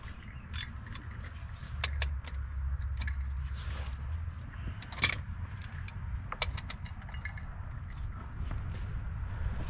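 Metal sockets clink and jangle as someone rummages for an 11/16 socket while working on a 1990 Volvo 740 turbo wagon, in short scattered bursts over a low steady hum.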